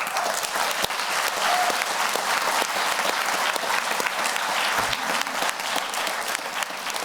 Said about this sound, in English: a big round of applause for all of these amazing students